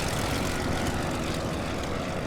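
A WWI biplane's engine in the Wings Over Flanders Fields flight game drones steadily and loudly, a dense, rough, constant roar that holds evenly throughout with no pauses.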